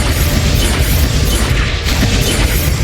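A Confringo explosive spell blast in Hogwarts Legacy: a loud, dense, sustained roar of blast and crackle filling the whole clip, close and heavy, with no voices.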